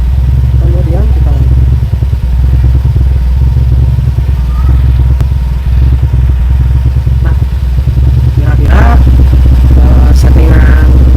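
A Honda Vario 150 scooter with a remapped ECU idles with a steady low rumble throughout, while people talk close by over the engine.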